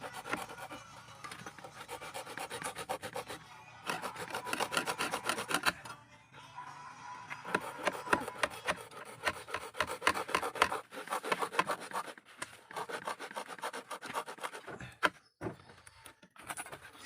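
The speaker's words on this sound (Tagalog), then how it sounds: "Yan, gagatlaan ko lang ito. O lalagariin." A stuck screw gets a notch sawn into it with a hand saw, a steady close rasping back-and-forth that runs in long bursts with short pauses between them.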